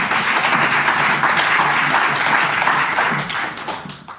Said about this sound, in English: So please give your warm round of applause for Travis Duncan from Austin, Texas